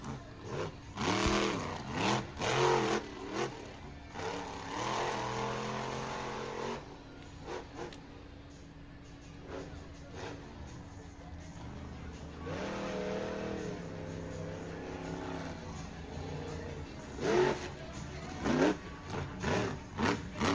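Monster truck engines revving hard at a freestyle event, rising and falling in loud bursts with brief lulls, near and powerful, over a busy crowd-filled arena.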